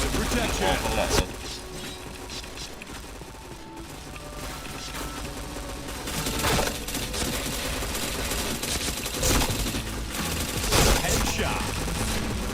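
Bursts of automatic gunfire and clanking weapon sounds in a shooter video game, rattling volleys recurring over a busy mix of game effects, with players talking throughout.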